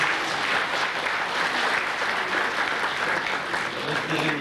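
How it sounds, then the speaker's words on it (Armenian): Sustained applause from an audience gathered for a 1996 political campaign visit in Vayots Dzor, Armenia, dense and steady clapping filling the whole stretch at close range without pause. "արդեն խմբովի կարող եք ծափտա"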